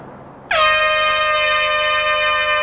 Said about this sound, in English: When that siren goes, when you know you're on the countdown, then I can't help being nervous.